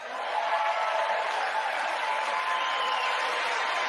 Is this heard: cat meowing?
no